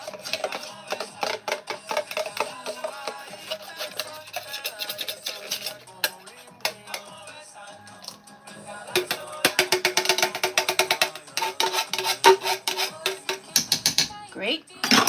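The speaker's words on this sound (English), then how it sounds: "Scrape our insides of the can." A metal spoon scrapes around the inside of an emptied beer can while making meat chili, giving a scattered run of scratchy, clinking rasps that start sparse and grow into denser, louder scraping bursts near the end, with no talk.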